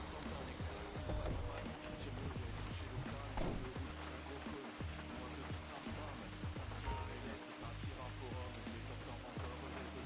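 Steady rain pours in GTA 5, a constant dense hiss across the whole span, with a voice speaking over it at times.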